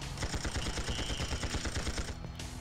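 Rapid gunfire aimed at an oil drum in the PS1 game Tomorrow Never Dies, a dense stream of quick shots over a constant background hum, fairly faint and without talking.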